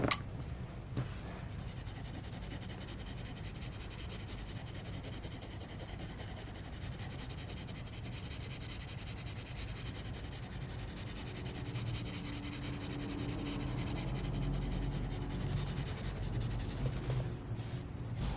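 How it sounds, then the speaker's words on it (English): Paul Rubens colour pencils blend on paper with a soft, continuous scratchy rubbing that stays faint and steady throughout. "Blend, blend, blend is the key, as I always say with colour pencils."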